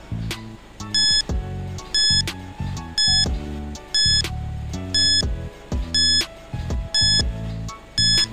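Game show countdown timer from a Filipino Christmas quiz show, loud rhythmic electronic beeps in regular bursts roughly every second, layered over a pulsing synthetic music bed with no talking.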